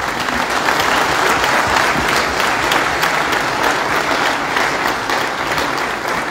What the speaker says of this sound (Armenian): ես խնդրում եմ ծափահարել